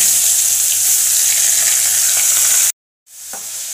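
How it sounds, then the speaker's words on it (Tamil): Onions drop into hot oil with fennel seeds in a kadai for cauliflower gravy, a loud, dense sizzle that cuts out abruptly, then the frying hiss resumes more softly. "2 வெங்காயம் போட்டுக்கோங்க."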